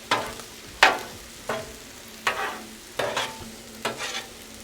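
Chicken and shrimp hibachi is tossed in a hot pan, with about six distinct spatula scrapes at uneven intervals over a low, constant sizzle, close and moderately loud.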